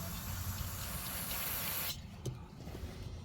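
Aerosol cleaner sprays from a pressurized can in a steady hiss for about two seconds, then stops, followed by a brief faint puff and light handling noise.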